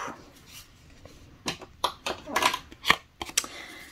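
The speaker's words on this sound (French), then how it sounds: "je redécoupe un petit peu devant vous, comme ça vous voyez" Scissors snip paper in short, crisp cuts with uneven spacing, set close against a quiet room with slight background noise; the paper is moved while the scissors stay put.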